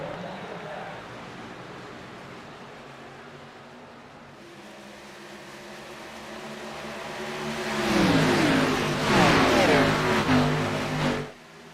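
Race cars in a racing video game at Kentucky Speedway as the green flag drops: a muted rumble of engines builds into a loud, roaring pack sweeping past, under a voice talking.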